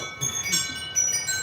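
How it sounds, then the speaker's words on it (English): A bell rings in a few bright, sustained tones that overlap and linger, with soft rustling underneath and no speech. "Let's do the bell ring."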